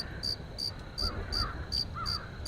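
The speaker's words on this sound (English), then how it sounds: "Crickets." Rhythmic cricket chirps from a dark woodland in the game The Cursed Forest, about six evenly spaced bright pulses over a low rumbling ambient bed, with no talking.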